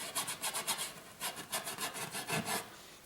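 A scrubber brush rubs paint onto a landscape painting in quick, rhythmic scratchy strokes, about a dozen close, soft bursts in a row with no talking.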